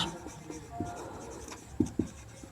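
Pen writing out a maths solution by hand, soft scratchy strokes with a few sharper taps of the pen against paper, faint and close.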